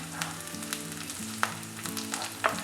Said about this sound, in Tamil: எல்லாமே லைட்டாக ஃப்ரை ஆகணும்.